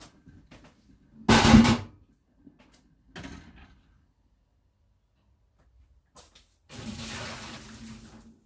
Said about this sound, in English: Just getting rid of some water in my pot before it overflows.